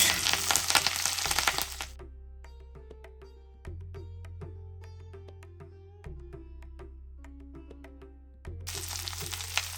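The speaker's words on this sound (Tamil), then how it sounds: "ஃப்ளேமை ஸ்லோ பண்ணிவிட்டு இந்த கருவேப்பிலையை நல்லா ரோஸ்ட் பண்ணணும்" Curry leaves roast in a pan over a slow flame, giving a steady close crackle and sizzle with sharp pops scattered throughout, and no talking.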